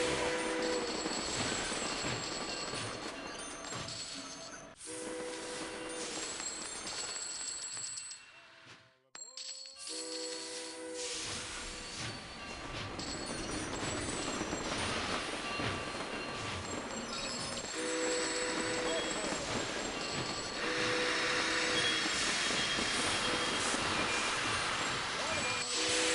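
Trains run in Sid Meier's Railroads!, a continuous rumbling rail noise with repeating tonal chimes and clinks layered over game music, steady and fairly loud for the whole stretch except a short near-silent dip midway.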